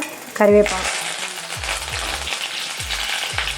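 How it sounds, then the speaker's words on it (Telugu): Mustard seeds splutter in hot oil for a tempering for moringa leaf dal, a dense crackling sizzle opening with a bright clink, then repeated low knocks of a spoon against the pan. "అలా చిటపిట్లు ఆడిపోవాలి ఆవాలు, అప్పుడే బాగుంటుంది అన్నమాట"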